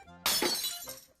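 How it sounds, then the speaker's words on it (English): Glass is stomped underfoot in a mock wedding ritual on a Broadway-style stage, giving one sudden loud crunch and shatter that rings out briefly and fades within a second. "When do I stomp glass?"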